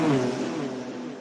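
A race car engine revs loudly and steadily, with a rising then sustained tone close up and no voices.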